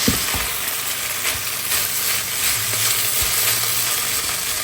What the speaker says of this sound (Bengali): ডিম ফ্রাই করব